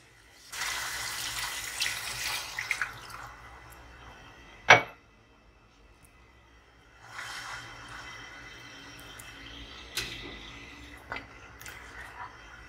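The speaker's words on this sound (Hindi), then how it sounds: "थोड़ा सा पानी, ताकि ये कीमा इसमें अच्छे से गल जाए।" Water is poured and splashes into a pan of minced meat in a couple of bursts, separated by a sharp clink and quiet pauses.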